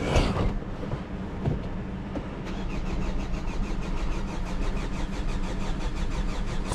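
A 2011 Hyundai Sonata engine cranks without starting, its starter churning in a fast, steady, rhythmic whir close by for several seconds after a brief clatter, with no catch or rise into a running idle.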